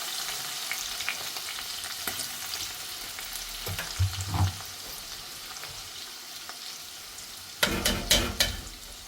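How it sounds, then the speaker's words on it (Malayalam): Cooked beef with crushed garlic and shallots sizzles in oil, a soft steady hiss broken by scraping stirs and a louder burst of clattering sizzle near the end, close by with no voices. "ഇനി നമുക്ക് ഈ ബീഫ് വെന്തത് ഇതിലിട്ടിട്ട് പൊരിച്ചെടുക്കാം."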